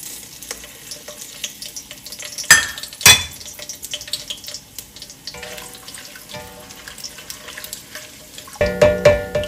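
Whole garam masala spices frying in hot oil, a soft crackling sizzle with two sharp clattering knocks early on and a cluster of louder clinks near the end, with no talking.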